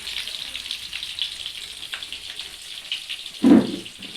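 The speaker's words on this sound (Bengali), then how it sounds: "সেই আলুর দমের আলুটা আমি ভাজছি।" Potatoes for aloo dum fry in hot oil at a picnic cook-out, a steady bright sizzle broken by one short clatter toward the end.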